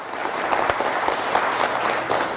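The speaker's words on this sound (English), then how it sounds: "let's all give him a hand clap" Audience applause at a church celebration honoring award winners, a dense steady wash of many hands clapping, fairly close and loud throughout with no voices on top.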